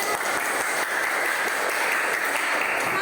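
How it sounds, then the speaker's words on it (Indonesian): A classroom of students claps hands together in a steady, dense burst of applause that fills the whole stretch, with no talk over it. "tepuk tangan untuk kita semuanya"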